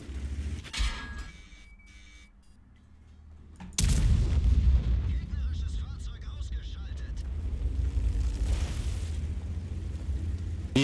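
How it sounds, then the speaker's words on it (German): Tank destroyers firing their guns in an online tank battle game, heavy booming cannon shots followed by sustained loud rumbling under game noise, with a player talking in places. "Die beiden TDs haben geschossen, ne?"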